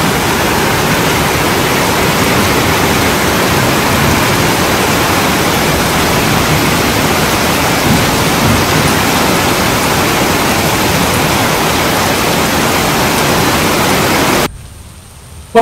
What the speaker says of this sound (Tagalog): Ngayon, umuulan po, hindi na po ganun kalakas.